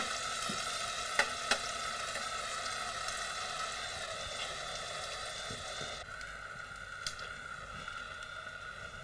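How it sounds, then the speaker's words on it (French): Sliced onion and shallot fry gently in veal kidney fat, a soft, steady sizzle that stays faint and even throughout, with a couple of brief clicks near the start. "Je vais pouvoir y introduire un oignon et une échalote émincés et les laisser gentiment dorer dans cette graisse de rognon."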